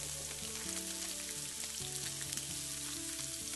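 Sesame-crusted salmon searing in a hot pan gives a steady, close sizzle and crackle, running continuously with a low tonal hum from the kitchen underneath and no talking.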